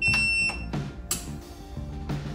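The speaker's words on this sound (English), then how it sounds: "It makes a beeping noise, it's great." Several short, high electronic beeps from an Oukitel P2001 solar generator ring out in quick succession, mixed with a few clunks and soft handling noises nearby.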